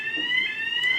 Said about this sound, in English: That sound means there's a fucking fire alarm!